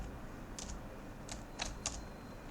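Code being typed on a computer keyboard, a few soft, sparse keystrokes at close range over a steady low hum of background noise.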